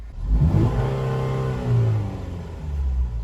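Saturn Vue engine with a flashing check-engine light revving hard as the throttle is snapped, a loud rising whir that holds, dips, then swells again over about three seconds with no talk.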